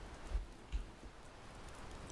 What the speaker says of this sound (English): Or is that just the rain?